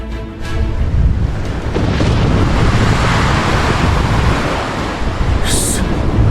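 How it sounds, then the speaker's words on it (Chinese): A simulated storm during a warship wind-and-wave test: loud, continuous roaring wind and crashing waves that swell steadily, with a brief higher hiss near the end. "即刻启动最高级别模拟风暴，进行抗风浪测试"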